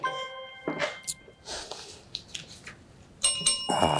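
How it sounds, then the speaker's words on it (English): A bright electronic ring sounds near the end, signaling the end of a quiz competition round, preceded by scattered knocks and faint room noise, with no talking. "Bell signals the end of that round."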